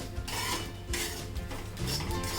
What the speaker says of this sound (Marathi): त्याच्यातच मी आता जिरे घालते आणि जिरं हे पण एक मिनटं भाजून घेते मी